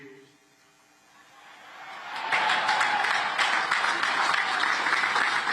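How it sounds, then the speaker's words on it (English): A large crowd at a West Point ceremony bursts into applause that starts quietly and swells into sustained, dense clapping over a faint hum. "I've heard enthusiastic applause before."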